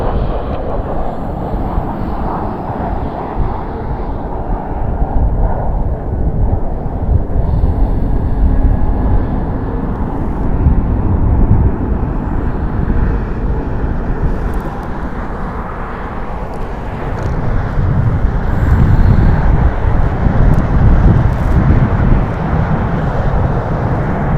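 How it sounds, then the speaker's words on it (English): A Southwest Boeing 737 MAX 8 jet at Las Vegas Harry Reid International Airport produces a steady, loud roar of engine noise with wind rumble, swelling slightly toward the end and continuing throughout. "Currently looking at Southwest 1290, heading over to Phoenix, Arizona, on a Boeing 737 MAX 8"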